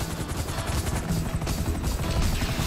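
A police helicopter in the video game Grand Theft Auto V thrums steadily through a dense, loud mix of gunfire during a raid, with no break across the short stretch.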